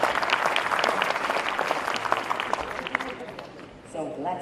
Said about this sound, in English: So a round of applause for our guests